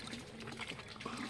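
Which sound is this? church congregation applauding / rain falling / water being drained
water being drained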